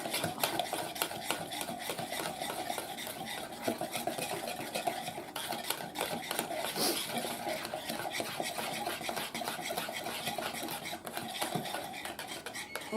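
Heavy cream and seasonings being stirred together in a bowl for a creamy cheesy fish bake, with a steady scraping, clinking whisk or spoon rhythm close up and continuous throughout, no talking.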